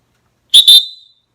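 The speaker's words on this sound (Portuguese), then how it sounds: "E o apito é um apito de segurança." A small plastic safety whistle from a runner's ultramarathon kit gives two sharp, loud shrill blasts in quick succession, the second trailing off, with silence before and after.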